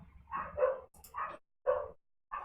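A dog barks several times in short separate bursts with gaps between, fairly close and distinct against a quiet background.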